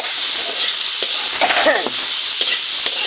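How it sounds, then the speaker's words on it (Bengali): Chopped onion and tomato hit a hot pan of freshly fried fish, giving a steady close sizzle and hiss with a brief louder flare of crackle midway, no voices. "এখন এর মধ্যে দিয়ে দেব পেঁয়াজ টমেটো কুচিগুলা।"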